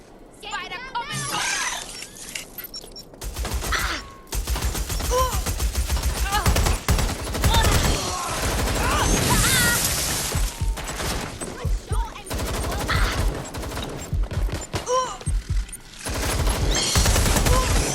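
Gunfire in the video game Watch Dogs Legion, with bursts of rapid automatic shots and sharp single cracks mixed with shattering glass, loud and close, under in-game voices shouting over the action.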